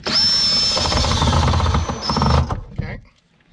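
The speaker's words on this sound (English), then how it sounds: "we're going to grab our screw gun. Just tighten those down." A screw gun drives screws into a spa's electrical fittings in one sustained loud whirring run, its pitch dipping briefly under load before stopping abruptly.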